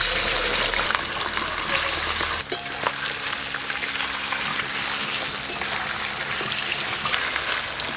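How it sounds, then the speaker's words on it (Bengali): Chicken pieces frying in a pan for chicken curry, a loud, steady close sizzle with a burst of hissing early on and occasional stirring scrapes, no talking. "এবার চিকেনগুলোও কিন্তু ভালো করে ভাজতে হবে, অনেক চিকেন আছে, দুবার করে ভেজে নেব।"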